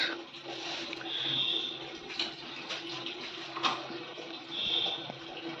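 Water pours steadily from a household tap as a container fills, a continuous rushing hiss with faint clinks and no voices.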